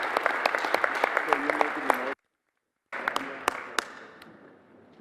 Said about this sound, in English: have a round of applause for our 2 panelists here